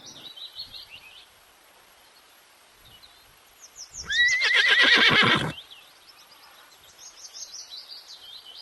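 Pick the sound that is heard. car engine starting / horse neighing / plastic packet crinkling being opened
horse neighing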